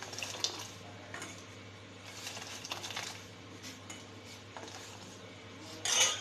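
Chilled water is poured gradually into Kashmiri pink tea and stirred, producing faint liquid trickles and light clinks of a spoon against the pot, quiet and close, with a slightly louder clatter at the end.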